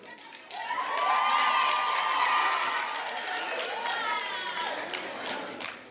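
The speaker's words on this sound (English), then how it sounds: "let's give her a round of applause" Audience at a health training centre graduation ceremony claps and cheers, a steady crowd swell with some shouting over it, moderately distant.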